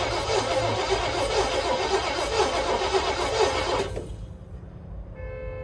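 The long-dormant engine of a 1973 Firebird is cranked, a steady loud whirring churn that runs for several seconds without catching, then cuts off abruptly to near quiet.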